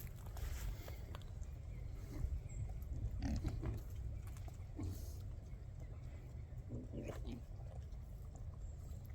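Black Berkshire pigs at feeding time on a Texas farm, low grunts and snuffling mixed with scattered rustling and splashy feed noises, fairly close, continuing steadily throughout.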